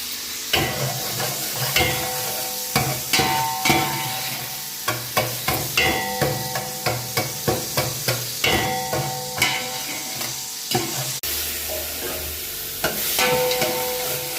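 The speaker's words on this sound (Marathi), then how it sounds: "त्याच्या अगोदर आपण याला फोडणी मारून घेतो आहे तेलामध्ये कांदाने मीठ टाकलेलं आहे" Onion and salt tempering in hot oil at a Kolhapur dhaba kitchen, ahead of cooking chicken. Loud, rhythmic clanking of a spatula against the pan repeats over a constant sizzle, with brief pauses between strokes.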